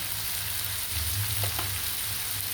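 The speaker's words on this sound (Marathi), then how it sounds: "कांद्यासोबत कोथिंबीर भाजायला टाकायची." Sliced onions and coriander leaves fry in a pan with a little salt, producing a steady, close crackling sizzle.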